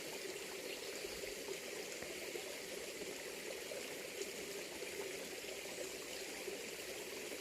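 A forest stream spills over small waterfalls in autumn, making a steady, even rushing and trickling that holds constant throughout with no voices.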